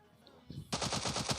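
A rapid burst of Tommy gun fire in PUBG Mobile Lite, about seven evenly spaced shots in quick succession, loud and close, following a brief quieter lead-in.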